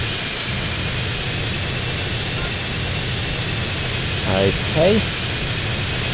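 A jet airplane flies in the video game GTA San Andreas, its engine a constant droning whine throughout, while a voice briefly speaks near the end.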